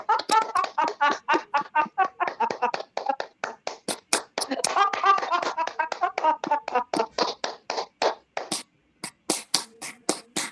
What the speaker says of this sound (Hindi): ताली वादन से हमारे शरीर में